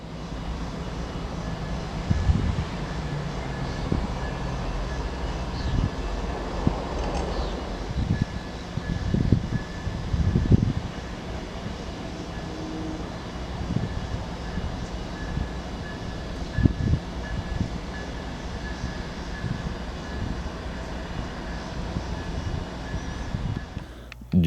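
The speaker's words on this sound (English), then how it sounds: "the locomotives have to pull all the way up to a crossover switch just outside of the yard before coming on back" Santa Fe B40-8W diesel locomotives rumble through a rail yard at dusk, a steady low engine drone with wind buffeting the microphone and occasional thumps, heard from outdoors at moderate distance.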